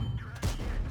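A T57 tank fires its gun in World of Tanks, one sharp booming shot that rings out briefly over a low engine rumble.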